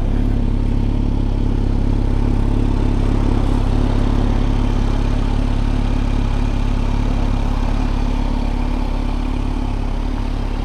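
A black 2023 Kawasaki Z900 with a slip-on muffler idles steadily nearby, a continuous, fairly subdued low engine drone that holds unchanged throughout with no voices.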